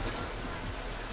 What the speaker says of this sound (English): With all the umbrellas and all the rain.